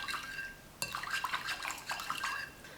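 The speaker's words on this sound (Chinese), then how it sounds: "继续搅拌至酵母融化" Brown sugar water and yeast stirred in a bowl, the spoon clinking and scraping against the side with a soft wet swish, a steady run of small taps and scrapes after a sharper first knock, close by, no talk.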